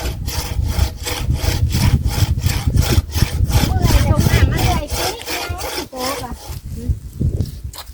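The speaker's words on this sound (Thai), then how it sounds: "เอาเลื่อยน้อยตัด" A hand saw rasps through wood in quick, steady back-and-forth strokes, close and loud, with a voice speaking briefly near the end.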